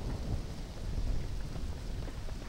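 Steady rain with rolling thunder from the Twilight Princess video game, a dense continuous wash that swells slightly, with no talking.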